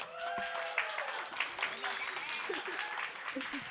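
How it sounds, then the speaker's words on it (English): Applause from a crowd at a live show at Drygate, a Glasgow venue, with whoops and chatter mixed in, a steady wash of clapping running through the whole moment. "Can we get a round of applause for our lovely host, Trash Cinema?"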